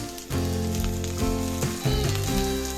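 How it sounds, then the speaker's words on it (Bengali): Cauliflower and potato pieces fry in oil without salt, giving a crackling sizzle that swells in bursts as they are stirred, close up and without talk, over a steady background tone. "তাই একটু রং ধরে আসা পর্যন্ত আমি ভেজে নিচ্ছি নুন ছাড়াই।"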